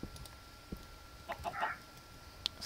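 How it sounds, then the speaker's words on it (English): A Minecraft chicken gives a few short, quiet clucks over faint game background noise, with scattered soft clicks around them. "There's a chicken over here if you want to kill it."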